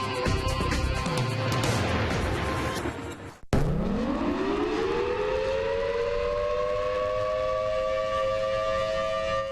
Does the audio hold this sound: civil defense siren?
yes